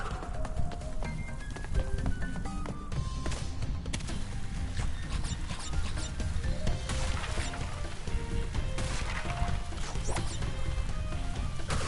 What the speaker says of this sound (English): I always love smashing the boxes.